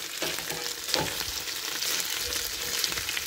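Cooked pork with bones frying in its own rendered fat makes a dense, continuous sizzling hiss with small crackling pops throughout, close and fairly loud, no voices.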